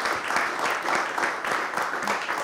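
Audience applause for a company's founding president at a French business club interview event, a steady dense wash of clapping filling the room with no voices on top.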